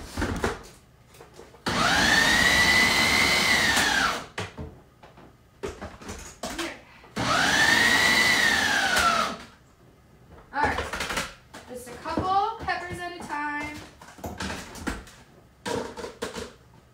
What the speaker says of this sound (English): I'm going to dice them up with my food processor a little at a time